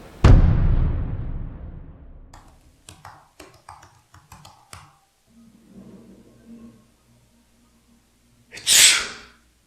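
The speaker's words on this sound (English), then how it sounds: "I just sneezed." A loud, abrupt sneeze near the end, preceded by a heavy thump and a scatter of clicks and rustling, then brief murmuring.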